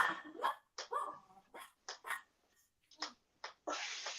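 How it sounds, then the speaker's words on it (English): A Chihuahua guard dog barking repeatedly, a quick series of sharp, high yaps in an irregular rhythm, close and fairly quiet, ending in a longer hiss-like burst. "That guard dog."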